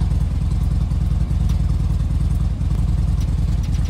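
A 2015 Harley-Davidson Dyna FXDB sits on its kickstand warming up, its engine idling close by with a loud, loping, rhythmic pulse and a faint clatter, and no talk.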